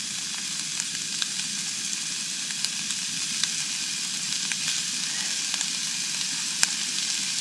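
Sausage frying in its own rendered fat with no oil, a steady close hiss and crackle with scattered small pops and occasional stirring scrapes, constant throughout with no voices.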